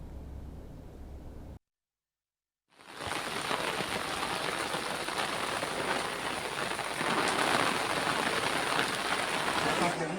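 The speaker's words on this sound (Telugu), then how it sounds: "గుంటూరు జిల్లాలో భారీ వర్షాలు కురుస్తున్నాయి." Steady, dense hiss of heavy rain pouring down close by in Guntur district, Andhra Pradesh, continuing after a short moment of silence near the start.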